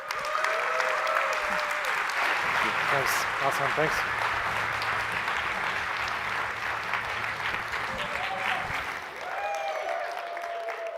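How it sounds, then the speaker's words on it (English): A large audience at the React Conf 2024 tech conference breaks into long, steady applause with some cheering, while a speaker briefly thanks them over the crowd. "Let's give it up and help me give a huge warm applause"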